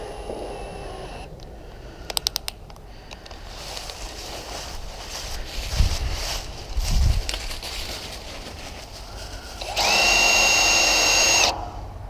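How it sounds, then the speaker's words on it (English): A power drill whirs intermittently while drilling through a bottom piece when wiring trailer tail lights, with a brief high-pitched burst near the end, amid low rumbling handling noises and a few clicks. "I'm drilling straight through this bottom piece."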